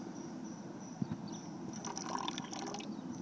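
Wort from an all-grain brown ale mash draining through a slightly opened ball valve into a cup, giving a faint steady trickle and splash with a few small drips, close and without talk.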